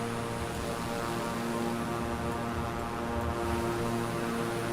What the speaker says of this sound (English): I just love the sound of the prop plane though.